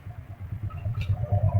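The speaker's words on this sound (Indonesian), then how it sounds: "Oh, ternyata shock breakernya lepas teman-teman." Rattling, clanking knocks from a loose shock absorber on a moving vehicle, under a low engine and road rumble; irregular, fairly close, with no talk.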